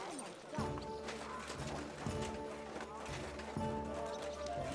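Horse hooves clip-clopping in a steady gallop rhythm in the medieval video game Kingdom Come: Deliverance II, set against music with a brief whinny-like cry, and a voice speaking briefly over it.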